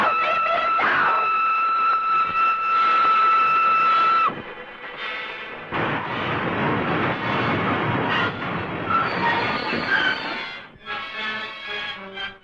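A passenger train runs through a scene from the Hitchcock film The Lady Vanishes, its loud steady rumble carrying a sustained whistle-like tone that cuts off sharply, then dense clattering movement with rising and falling tones under a dramatic score.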